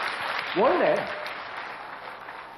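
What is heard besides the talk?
audience applause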